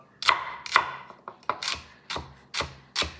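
A knife chops celery on a cutting board in about seven crisp, evenly spaced strikes, close and fairly clear, with no talking.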